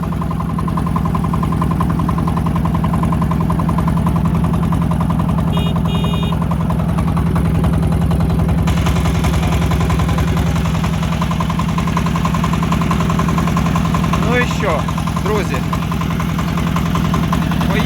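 A Kentavr 160V walk-behind tractor engine runs steadily close by, a loud, even low-pitched chugging drone throughout, with a brief metallic clink partway through.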